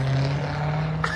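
A Dodge Hellcat engine drones with a steady, low, rumbling tone, close and fairly loud, holding an even pitch throughout the short stretch without people talking.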